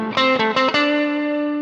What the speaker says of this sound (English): With the reverb.